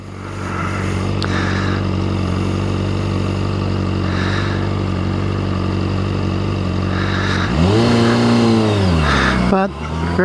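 A Honda CBR motorcycle engine idles with a steady harmonic drone, then the throttle is blipped near the end, the pitch rising and falling in one clear rev before cutting off.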